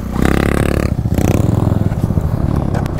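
A motorcycle engine revs hard under repeated throttle blips during wheelie practice, loud and close, its roar surging and falling with a rough, clattering edge across the whole stretch.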